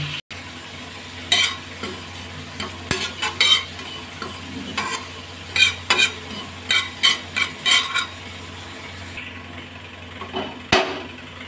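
Pumpkin and poppy seeds stirred in a pan over a lowered flame, a spoon scraping and tapping against the metal in an uneven run of strokes over a soft background sizzle, near and clear with no talking.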